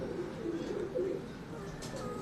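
Pagal Topi breed pigeons coo softly and repeatedly at close range, a low steady murmur of several birds, with no voices.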